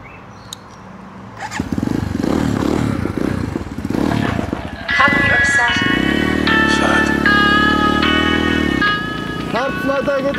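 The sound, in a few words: 300cc motorcycle engine running while riding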